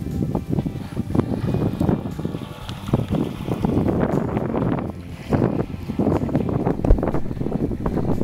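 A homemade radio-controlled fishing bait boat with a 7.4-volt battery runs on a pond, its steady motor whir and water slap mixed with gusty wind buffeting the microphone throughout.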